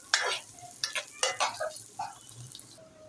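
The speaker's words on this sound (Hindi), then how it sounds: "2 से 3 मिनट इसको हल्का सा फ्राई करेंगे घी के अंदर" Onions sizzle and crackle in hot ghee, with a few stirring scrapes and soft pan clinks over a steady frying hiss.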